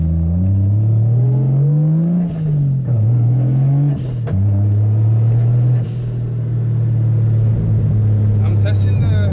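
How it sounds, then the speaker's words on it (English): A Nissan S13 swapped with a 1JZ engine driving along, a steady low engine drone with gentle rises and falls in revs, heard from inside under a person talking. "driving Nicole's car now"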